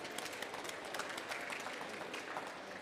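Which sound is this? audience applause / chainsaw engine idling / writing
audience applause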